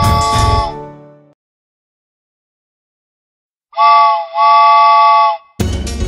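A cartoon train whistle blows loud and close: one long sustained toot with a brief dip in the middle, then a sharp burst at the end, set between short stretches of music and silence.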